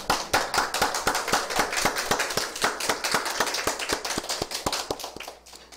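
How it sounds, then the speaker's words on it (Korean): A church congregation claps in unison at midnight on New Year's 2020, a steady rhythmic beat of crisp claps about four per second that holds evenly and then tapers off at the end. "하나님께 영광의 박수를 올려드리시겠습니다."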